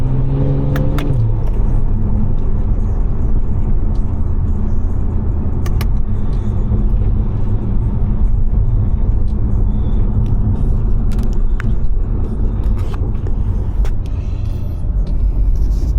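A stage 2 540 car drives in the rain with a loud, continuous engine rumble heard from inside. A quick rev drop marks a downshift near the start, and scattered clicks and ticks sit over the steady drone.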